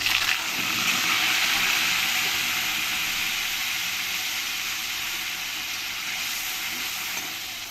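Onion paste and tomato paste hitting hot oil with bay leaves and dried chilies for capsicum chicken, a loud hiss at first that settles into a continuous, slowly fading sizzle, no voices.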